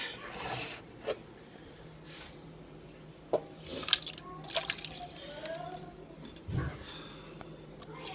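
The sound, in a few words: home-canned potatoes being added to a pot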